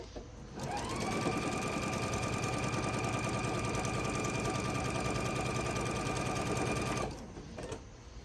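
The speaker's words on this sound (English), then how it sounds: "we'll sew these last two sections together" A sewing machine stitches quilt table runner sections together in one steady, continuous run of about six seconds, loud and close with a fast even mechanical chatter, then stops.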